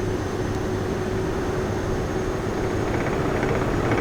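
Carenado PC-12 turboprop on a low-power landing approach in X-Plane 11, a steady broadband engine and wind roar with a faint whine, no talking.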